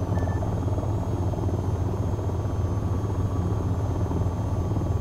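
AH-94 attack helicopter in the flight simulator VTOL VR, heard as a steady, loud rotor drone with low throbbing and a faint high whine. It holds evenly throughout with no talk.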